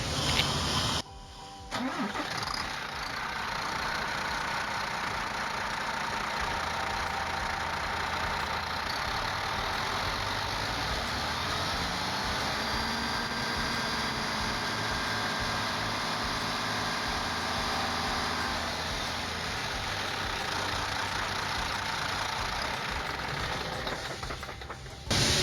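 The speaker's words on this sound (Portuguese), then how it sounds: "Vamos funcionar também na marcha lenta" A VW MAN TGX truck diesel engine cranks and fires after a brief pause, then settles into a steady, close idle that runs evenly for the rest of the stretch with no talking.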